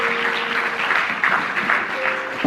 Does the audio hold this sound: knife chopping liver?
no